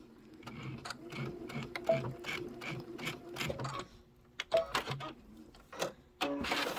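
A sewing machine backstitching a pillow cover runs in steady rapid bursts of mechanical whirring and ticking, with brief pauses and restarts, close and moderately loud.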